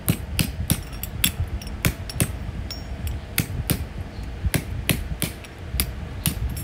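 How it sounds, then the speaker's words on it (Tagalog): A ball peen hammer strikes brass over and over to round it into a sphere, giving sharp metallic taps in a steady, slightly uneven rhythm, close and clear with no talking. "pupukpukin natin gamit yung ball peen hammer"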